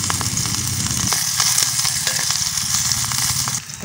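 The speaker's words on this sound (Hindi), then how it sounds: "तेल गर्म हो गया है, इसमें डाल रहे हैं प्याज" Steady, dense sizzling of onions frying in hot mustard oil, loud and close, with a few stirring clicks and no talk.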